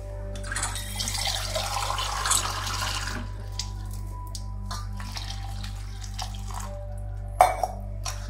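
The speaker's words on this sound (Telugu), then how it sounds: "ఇంకాస్త నీళ్ళు పోస్తాను." Water poured from a tap or vessel over gongura leaves in a bowl for soaking, a splashing, gurgling pour for about three seconds, then quieter trickles and a clink of a pot near the end, over a steady low hum.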